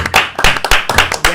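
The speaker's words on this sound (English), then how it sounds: "Everybody in the studio is clapping here as well." People in a music studio clap together in a steady rhythmic beat, sharp and close, each clap crisp and loud, with no voices over it.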